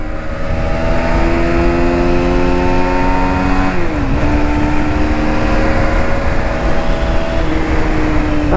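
A 2020 Aprilia Tuono 125 motorcycle accelerates hard through its gears, its engine note climbing loud and close. There is a quick shift and drop in pitch midway, then the revs rise again.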